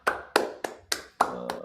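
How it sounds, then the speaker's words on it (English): A single person claps hands in several sharp, close slaps at an uneven rhythm while watching a live NFL Draft first-round stream, each clap bright and crisp with a short decay. "I'm clapping it up."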